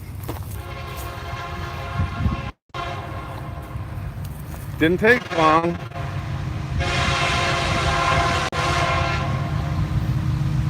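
A train rolls past with a loud horn blast, rumbling wheels and rattling cars building up close; someone speaks briefly over the noise.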